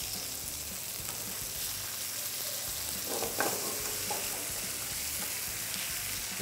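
Prawns searing in a pan for a prawns and avocado dish, a steady close sizzle and crackling fry that carries on throughout with a brief louder spatter midway.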